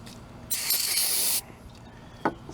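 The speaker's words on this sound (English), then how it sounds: "Spray some carburetor cleaner." A single steady spray of carburetor cleaner hisses for about a second, then stops, followed by a faint brief clack.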